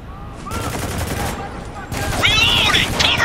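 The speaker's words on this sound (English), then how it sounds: "Open fire." Gunfire from Spec Ops: The Line, a steady volley of overlapping shots set against game battle noise and shouted squad voices, which grows louder and denser toward the end.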